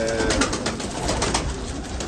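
Soft, low cooing of pigeons close by, repeated murmuring calls over a hissy background with no speech.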